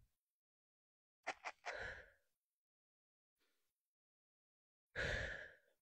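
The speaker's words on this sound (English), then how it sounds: "I just breathe right into the mic. Exhale, inhale," Deep breathing straight into a microphone during an exercise routine: a couple of quick sharp intakes, then a long exhale, a faint breath, and another loud prolonged breath, close and alone.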